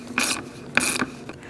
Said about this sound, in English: Using a 10mm socket, you're going to remove this bolt.